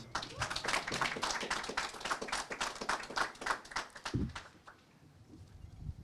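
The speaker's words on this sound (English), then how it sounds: "Let's give ourselves one big round of applause." Graduating class of 2021 clapping at their commencement ceremony, a moderate spread of individual hand claps in a loose rhythm that tapers off near the end, leaving quiet room sound.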